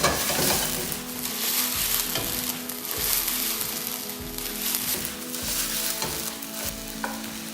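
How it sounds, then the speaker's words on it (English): Onions and peppers sizzle steadily in a hot pan for a spicy bacon chilli stir fry, with regular stirring scrapes and clanks recurring about every second over the constant frying hiss. "We've got the onions, the peppers, straight in. I'm going to just let that cook away for a little while."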